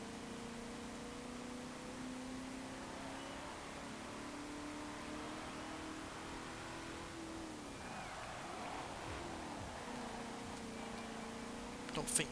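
MG car engine droning steadily through a lap in the racing game Forza Horizon 4, a continuous tonal hum with a brief surge and pitch shift near the end, a voice talking throughout over it.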